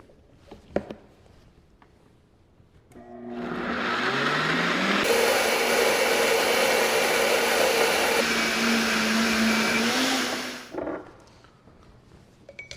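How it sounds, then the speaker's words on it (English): A blender whirs up to speed and runs steadily for about seven seconds, blending ramp pesto with about half a cup of olive oil, its motor pitch shifting slightly before spinning down, loud and close. "About 1/2 cup of olive oil. And we're just gonna blend it smooth."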